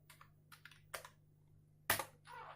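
A handful of separate keystrokes on a computer keyboard entering a network command, close and quiet, in scattered taps with pauses and one louder final press.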